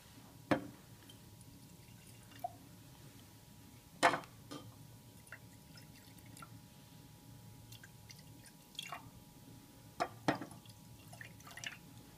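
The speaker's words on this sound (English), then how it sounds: "I'm going to pour some purple juice into each one of the beakers." Purple cabbage juice is poured into a row of beakers for a demonstration, giving a few faint, brief splashes and trickles spaced out over quiet moments.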